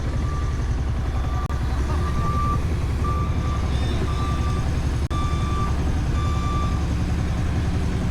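Road repair vehicles work on a street, sending out a steady train of high reversing beeps over a loud, constant diesel truck rumble close by.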